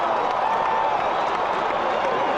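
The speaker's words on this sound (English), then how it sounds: "Yankee fans applaud that effort." Crowd applause and cheering in the OOTP18 baseball video game at a Yankees home game, a loud continuous wash of clapping from a large stadium crowd.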